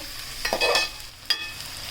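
Shallots sautéing with salt in a pan for chicken ash gourd curry, a soft, low sizzle broken by two sharp stirring clinks, no speech.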